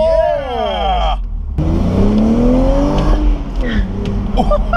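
A BMW Z4 accelerating hard, its engine note climbing in repeated rising sweeps as it revs through the gears, loud and close throughout.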